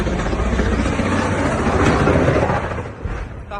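Airplane sound from a video played back: a loud, steady roaring engine or rotor-like drone filling the whole stretch, easing slightly near the end.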